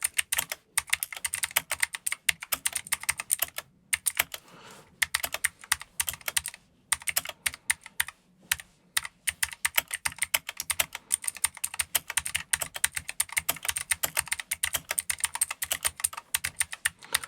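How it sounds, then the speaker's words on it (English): Rapid, continuous clacking of a mechanical keyboard with clicky blue Keychron switches, keys struck in quick uneven bursts with brief pauses, close and fairly loud, no voices. "This one here, for example, this is blue Kechron switches."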